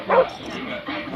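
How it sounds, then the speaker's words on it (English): A dog barks once in the Call of Duty video game, a short burst near the start followed by quieter game ambience and low background sound. "It was a dog."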